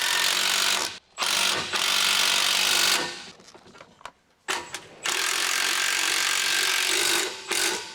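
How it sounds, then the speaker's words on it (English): Large electric impact wrench with a 21mm short socket tightening rear brake retaining bolts on a 2011–2018 Dodge Ram 1500, several loud, sustained buzzing bursts up close with brief pauses between them. "Using the large 21mm short socket with the large electric impact wrench,"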